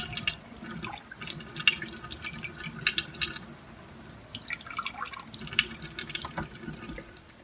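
Two tablespoons of water trickle and drip into flour for a sourdough starter, a soft close splashing and pattering that runs in short irregular bursts with no talking.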